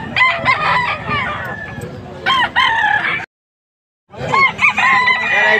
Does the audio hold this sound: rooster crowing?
yes